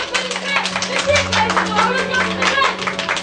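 Applause from a theatre audience at a youth drama show in Sardent, dense and steady for about three seconds, mixed with voices and a low steady hum.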